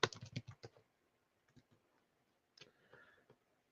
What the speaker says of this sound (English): I'm typing to her now.